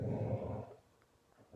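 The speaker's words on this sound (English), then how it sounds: "Sorry, that's my dogs." A poodle and a Weimaraner growl over a bone indoors: a low, close rumbling growl for about half a second, a pause, then a short renewed burst. No one talks.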